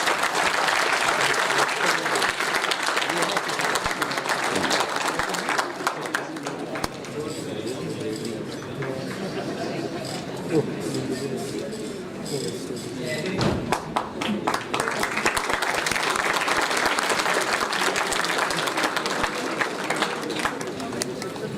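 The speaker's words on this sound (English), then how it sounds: "A huge round of applause for Dr. Ziaul Qayyum." Audience applause for the chief guest at a university conference panel, a long, dense round of clapping that dips in the middle before swelling again, with a voice briefly audible.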